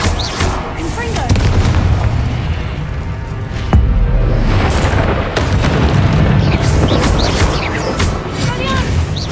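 A Confringo explosion spell in the Hogwarts Legacy video game goes off as a deep, heavy boom amid loud continuous combat rumble, with a sharper blast partway through and game voices underneath.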